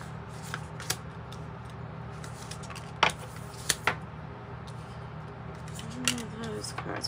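A deck of tarot and oracle cards being shuffled by hand, soft riffling and scattered sharp card snaps over a steady low room hum, with talk in the background.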